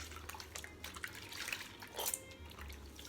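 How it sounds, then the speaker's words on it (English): Running water from a tap splashes as hands are rinsed at a sink during an at-home foot callus treatment, a steady close trickle with brief drips and a louder splash near the end. "Going to just rinse off my hands."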